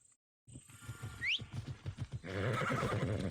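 A horse in the video game Assassin's Creed Odyssey whinnies once in a sharp, falling cry over a run of clip-clopping hooves, followed by louder rustling movement nearby.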